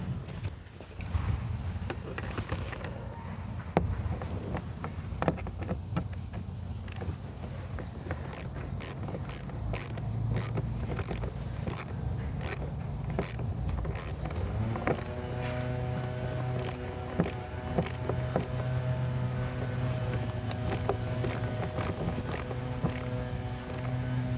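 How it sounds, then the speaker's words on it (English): A screwdriver and 3/8 wrench work on a Ram radio mount for a Kenwood TM-D710GA, giving quiet irregular clicks, taps and metallic ratcheting with a faint hum underneath, close and fairly soft. "now I need to find my screwdriver and a 3/8 wrench."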